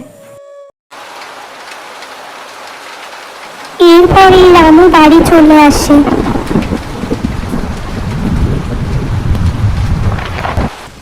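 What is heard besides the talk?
heavy rain and thunderstorm in a cartoon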